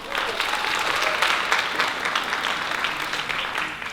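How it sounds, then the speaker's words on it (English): Audience applause for a dessert bar at a Commanders Christmas holiday event, a steady dense wash of many hands clapping throughout at moderate loudness, with no talk over it. "Please give them a clap"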